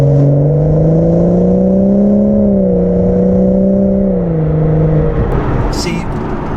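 A BMW 340i engine is driven at full throttle: a loud, steady engine drone holds high, dips slightly, then fades away after about five seconds into quieter road noise.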